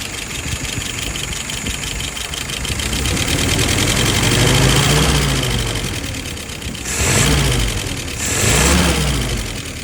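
A car engine idles, then is pulled through two quick revs that rise and fall back toward idle. The loud engine sound carries no speech.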